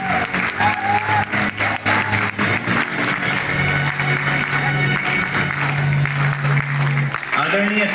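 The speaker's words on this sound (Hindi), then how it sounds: "जोरदार तालियों के साथ आपका स्वागत" Full-hall applause welcoming a guest at a film festival in Bhopal, dense continuous clapping and some cheering, with a sustained musical tone and an amplified voice beneath the crowd.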